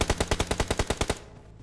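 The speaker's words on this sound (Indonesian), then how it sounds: "Ada yang nembak dari area berbeda." Rapid burst of about eleven automatic gunshots from a battle-royale shooter game, evenly spaced and loud, ending abruptly and leaving a brief quiet tail.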